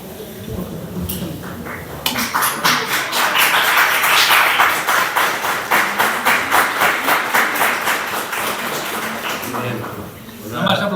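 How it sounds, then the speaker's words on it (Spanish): Audience clapping at a conference in a hall, a steady burst of applause that swells after a couple of seconds and fades near the end, with voices talking over it. "No vas a aplaudir más en tu vida"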